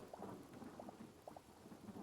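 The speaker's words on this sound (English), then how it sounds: "Got some thunder." Thunder in the video game Hytale, a faint low rumble under steady rain, with soft repeated thuds spread across the moment.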